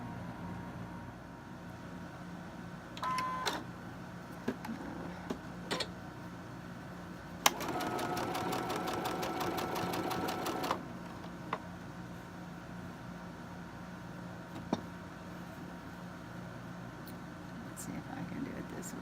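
A sewing machine stitches a small Halloween quilt piece in one steady, rapid burst of about three seconds. Quiet room noise and faint handling sounds surround it.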